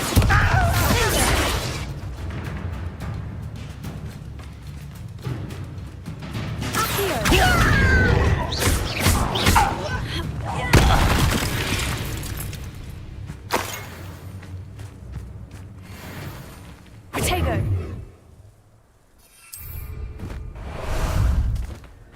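Hogwarts Legacy combat with spells like Bombarda going off: loud bursts, whooshes and crashing impacts in repeated waves, with a voice calling out spell names between blasts.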